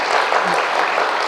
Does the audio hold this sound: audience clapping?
yes